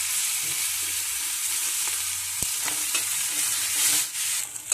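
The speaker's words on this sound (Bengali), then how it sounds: "পেঁয়াজগুলো লাল লাল করে ভাজা হয়ে গেছে।" Onions sizzle steadily in hot oil, frying until reddish-brown, with a few scrapes and clinks of a stirring spoon against the pan.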